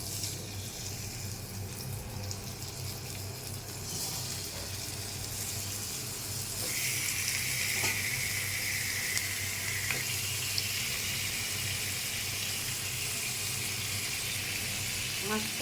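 Rohu fish frying in hot oil in a pan, a continuous close sizzling crackle that grows brighter and louder partway through, with a few clinks.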